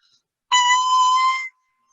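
A bare oboe double reed of cane, tied with red thread, is blown alone and gives a single sustained, buzzy squeal lasting about a second, close and fairly loud before silence.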